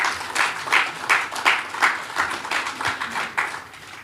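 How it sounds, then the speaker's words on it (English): Audience applause at a talk by an attorney, heard as a few hands clapping in a loose, steady rhythm of distinct claps that rise and fall over a few seconds. "they deserve a round of applause"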